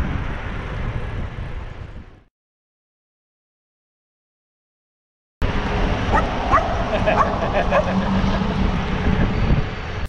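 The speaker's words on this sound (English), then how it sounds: "I got a dog barking at me from a car window" A dog barks from a car window in a busy parking area by a boat ramp, a few yips and barks heard close over steady vehicle and outdoor noise after a brief dropout.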